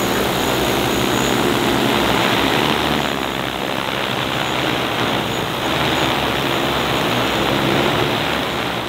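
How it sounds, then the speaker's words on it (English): A DJI Agras T20 agricultural drone spreading seed, its loud, steady rotor whine and propeller buzz filling the whole stretch close by, with no talk. "There's a drone in front of you."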